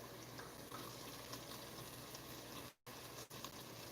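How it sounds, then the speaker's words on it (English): Water draining and splashing out of a pot after poaching an egg, a steady close pour of running liquid broken by a brief pause near the end. "So, and I'll let the water drain the best I can."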